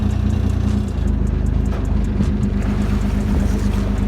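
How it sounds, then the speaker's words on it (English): A narrowboat engine chugs steadily and loudly, close by, as the boat moves along a canal where weed may be fouling the prop. The deep drone shifts slightly in tone partway through, and no one speaks. "You can hear the engine tone change."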